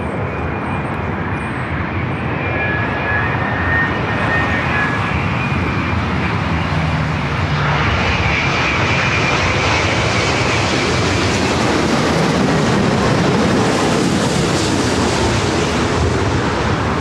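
A Boeing 787 Dreamliner jet airliner on short final at Los Angeles airport makes a loud continuous engine roar that swells steadily over about seventeen seconds, mixed with wind noise on the microphone.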